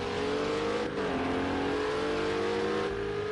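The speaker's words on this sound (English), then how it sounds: "That Acura is loud as hell." A loud Acura GT3 race car engine roars continuously in a sim-racing league event at the Nürburgring, its pitch dipping and climbing through a gear change, close and dominant with no voices.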